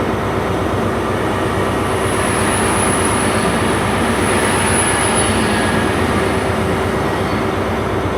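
A High Speed Train with power cars 43088 and 43161 departs, a loud, steady diesel drone and rumble close by, holding evenly with a faint high whine riding above it throughout.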